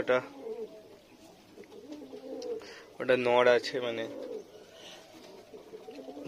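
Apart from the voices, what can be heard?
fantail (lakka) pigeon cooing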